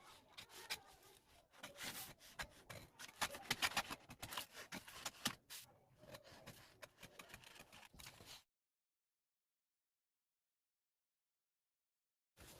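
Scissors cut through a paper blouse pattern, with irregular rasping snips and rubbing of paper close by for several seconds, then the sound stops abruptly into silence.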